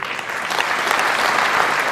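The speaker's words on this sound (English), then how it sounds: "That's the best applause I've ever heard" Brief, steady applause from an audience at a political talk about trade, a dense wash of clapping filling the whole moment without a break.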